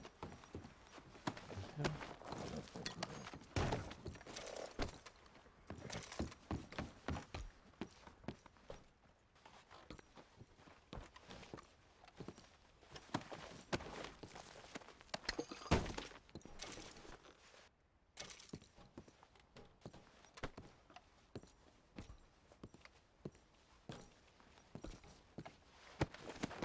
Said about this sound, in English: The horse.